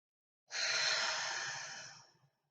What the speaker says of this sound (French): on va prendre 3 bonnes respirations